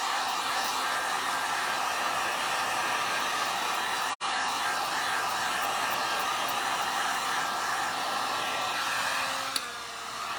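A heat gun blows in a steady, loud, continuous roar while drying paint on a Mylar stencil, with a brief cutout partway through and no talking.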